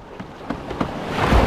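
Surging, rushing ocean waves build toward the end, like a wave washing in, with a few soft splashes before it.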